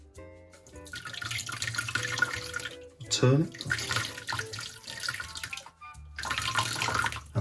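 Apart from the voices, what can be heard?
hot water from kettle poured over glass bottle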